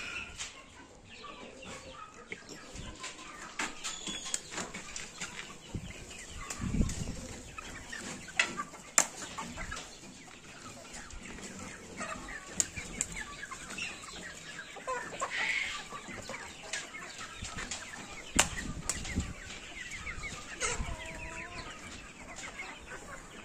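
Chickens and young chicks cluck and peep around a farmyard, steady overlapping calls near and far, with louder bursts of clucking scattered across the stretch and no talking.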